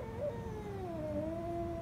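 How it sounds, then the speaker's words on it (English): An angry cat caterwauls in one long, drawn-out, wavering yowl that slides downward in pitch, close and steady, with no talk. "This cat is angry."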